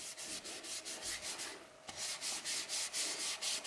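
Rhythmic sanding of a poplar crotch lidded vessel with abrasive paste, likely on a lathe, gives quiet repeated rubbing strokes in a fast steady pulse, briefly pausing midway before resuming, with no voices.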